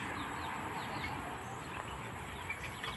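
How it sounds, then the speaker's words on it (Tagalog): Chickens cluck softly amid a busy, noisy background, their calls brief and scattered over a few seconds. "Kasi meron po silang alagang manok."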